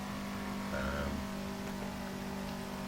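A race car engine in the video game Assetto Corsa drones continuously, smooth and fairly even, with a slight rise in pitch midway and no talking.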